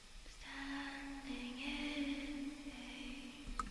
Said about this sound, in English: Throughout the song, an additional breathy sounding vocal has been used for a warmer,